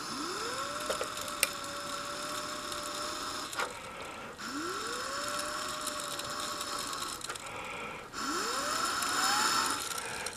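Breath blown onto a small flow sensor on a solar heating controller bench setup spins it up three times. Each time a whirring tone rises in pitch and then holds under a steady rush of air.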